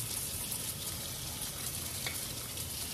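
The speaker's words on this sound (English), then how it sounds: "Now you want to rinse these several times in cold water." Salted cucumbers are rinsed in cold water, a soft steady splashing and trickling, faint and close with no talk.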